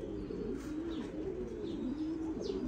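Pigeons coo in a steady, low, rolling murmur, close by and continuous, with faint chirps over the top and no talking.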